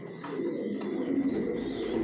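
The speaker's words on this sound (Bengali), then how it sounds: "টপ কোয়ালিটির কবুতর পালি," Racing pigeons cooing inside a loft, soft low rolling coos repeating close by over a quiet background.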